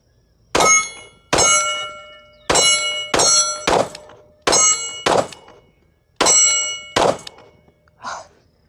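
A Taurus G3 XL pistol fires at steel targets, each shot followed by a loud ringing clang, about a dozen in quick pairs and singles, with a fainter distant ping at the end.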